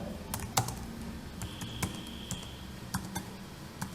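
A terminal command typed on a computer keyboard, with scattered light key clicks and a few sharper taps at an irregular pace, close and quiet over a faint background hum, no voices.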